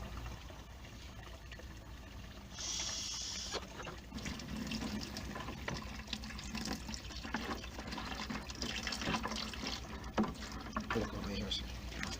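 Water pours through a mesh strainer into a fish pond with a continuous rushing, splashing flow that stays fairly steady and close.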